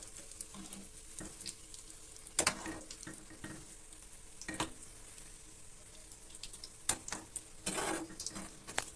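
Mutton kola balls, made with roasted gram flour, fry in hot oil with a soft, quiet sizzle, broken by a few sharper crackles and pops as they are gently turned, with no voices.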